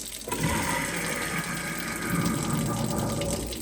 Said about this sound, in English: I'm going to turn on the garbage disposal.